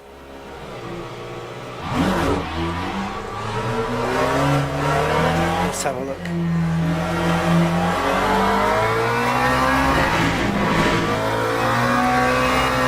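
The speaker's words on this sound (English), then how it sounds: "engine sounds loud" Car engine audio from a sim-racing video game, loud and continuous, with revving that rises and falls through gear changes and brief sharp bursts; a voice speaks briefly over it.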